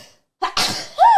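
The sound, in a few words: sneeze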